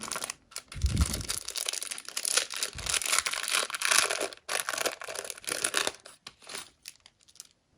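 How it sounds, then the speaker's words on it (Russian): A handmade paper surprise packet being unwrapped and torn open, with close, crisp crinkling, rustling and ripping in uneven bursts and short pauses, growing sparser toward the end. "Следующий пакетик. Давайте откроем."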